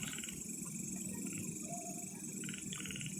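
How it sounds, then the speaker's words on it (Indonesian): Night-time frog croaks come in a few short raspy pulses under a steady insect hum and background hiss, fairly faint. "Suara kodok guys."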